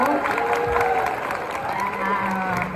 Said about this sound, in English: let's have a round of applause for the first part of this panel